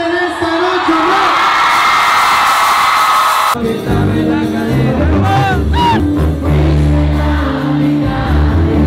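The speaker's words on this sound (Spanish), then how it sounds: "Que se escuche el grito de toda la gente presente en esta noche" Stadium crowd at a concert shouting and cheering in one loud, dense roar for several seconds, then giving way to music and a voice over the sound system.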